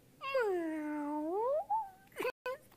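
A human voice imitates a cat, producing one long, drawn-out meow that bends down and back up, followed by a short second meow-like cry, close and clear.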